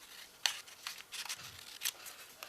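Scissors snip through paper board in quick, faint, close cuts, a handful of crisp clips spaced unevenly over a couple of seconds in a quiet room.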